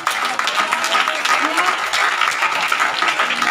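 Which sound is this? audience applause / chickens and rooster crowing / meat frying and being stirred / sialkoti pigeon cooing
audience applause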